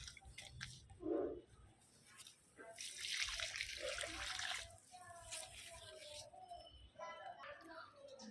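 Potash fertilizer solution is poured onto garden plants, making quiet splashing and trickling water that swells and fades in uneven bursts, with faint sounds of someone nearby.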